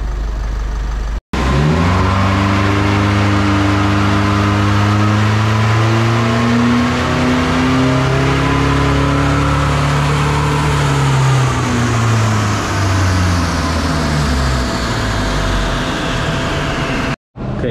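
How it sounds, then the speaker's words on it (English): A tuned Isuzu D-Max 1.9 diesel pickup revs hard on a dyno, the engine note climbing steadily through a long, loud pull before dropping off abruptly. "So now I'm gonna run the dyno run again to see how much power it's got."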